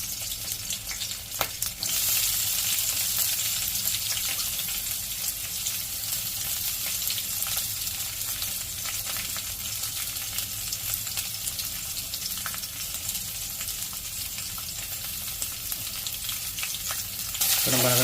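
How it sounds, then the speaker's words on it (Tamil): Chopped onions frying in hot oil with chillies and curry leaves in a home kitchen, a loud, continuous sizzle with scraping stirring strokes throughout, no talking. "இப்போ நம்ம நறுக்கி வச்சுருக்க வெங்காயத்தை போட்டுக்குவோம்."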